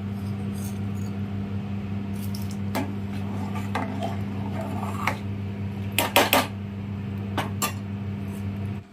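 Khichuri pot placed on a stove in a home kitchen, with a steady low hum and a few sharp metallic clinks and knocks of cookware near the end.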